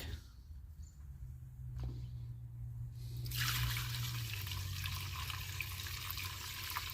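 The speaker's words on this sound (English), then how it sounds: "Let's see if we can pour this back in there." Gasoline poured from a bucket back into a car's gas tank gives a steady liquid splash and gurgle that starts partway through and keeps running, with a low hum beneath.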